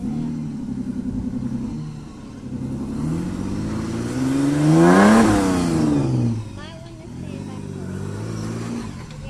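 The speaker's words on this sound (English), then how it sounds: "I'm going to wait for that car to go." A car approaches, passes close by with a rising then falling engine note that peaks midway, and fades off into the distance, in an outdoor street setting with other soft background noise.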